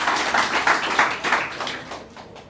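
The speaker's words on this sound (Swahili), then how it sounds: "Tafadhali kuja tumpigie makofi jameni." Audience applause at a memorial service, a dense steady patter of many hands clapping in a hall, fairly loud and continuous, fading slightly toward the end with no talk over it.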